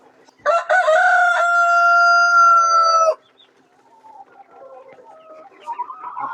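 A rooster crows loudly and close for a few seconds, followed by softer, scattered hen clucking in the background.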